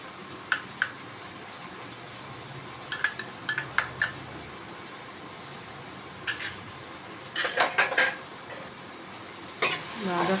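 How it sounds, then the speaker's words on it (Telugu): A utensil stirs flat bean and tomato curry with garam masala in a metal pan, giving repeated light scrapes and clinks in small clusters over a soft, steady background hiss. "ఈ 3 వేసిన తర్వాత ఒకసారి బాగా కలుపుకోవాలి."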